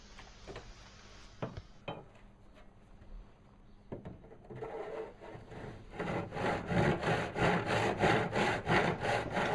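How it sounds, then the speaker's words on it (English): A panel saw cuts a 45-degree mitre in wood, first with a few light scrapes and taps, then a steady run of rhythmic back-and-forth rasping strokes that grows louder and close by, with no speech. "I'm going to cut with my panel saw"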